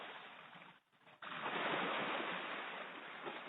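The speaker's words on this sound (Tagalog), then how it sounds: "Dito tayo na sa tabing dagat." Sea waves roll in at a beach in Laiya, San Juan, Batangas, giving a broad, continuous surf roar that briefly dips before swelling back, with no one talking.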